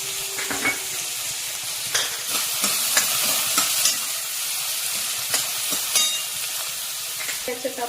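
Chopped tomato going into browned onion in a hot pan while cooking Maggi noodles, giving a steady loud sizzle and frying hiss with repeated stirring scrapes and clinks throughout.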